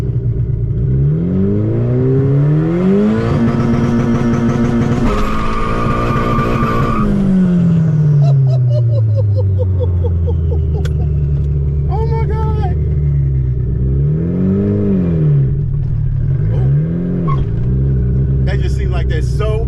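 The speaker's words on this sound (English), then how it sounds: "Oh my God, I did my first manual burnout." Manual burnout in a 1991 Honda Civic EF sedan with a two-step launch limiter, engine revving hard and rising and falling in pitch, tires squealing and skidding continuously, loud and close throughout.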